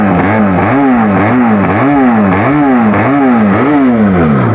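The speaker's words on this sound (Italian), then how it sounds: "mettiamo in moto la motoretta" A Benelli TRK 502X motorcycle engine revs in repeated rhythmic bursts close by, each blip rising and falling in a steady loud pattern with no pause.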